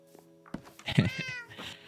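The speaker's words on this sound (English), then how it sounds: "Oh, the classic orange cat." An orange cat in Minecraft lets out a couple of close, clear meows, short and rising, in under two seconds with no talking.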